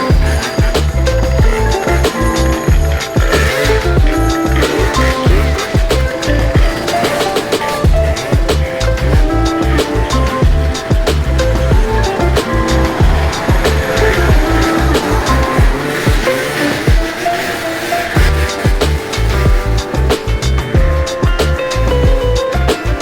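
A Honda Navi motorbike ridden on a lunch run, its small engine droning loud and steady throughout with continuous road and wind rumble, no talk over it.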